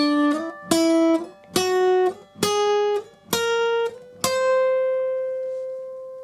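A guitar plays a whole-tone scale from C up to C, seven distinct plucked notes ascending one by one, the last note ringing out and fading, clear and close with no voices.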